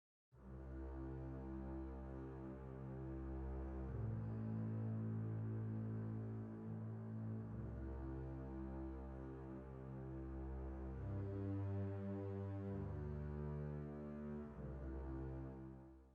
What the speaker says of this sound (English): here are the basses playing some deep notes for those lower frequencies.